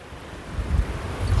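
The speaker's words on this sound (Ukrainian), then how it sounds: "У нас дує дуже сильний вітер." Strong wind buffets the microphone in low rumbling gusts, steady and close, with no voices.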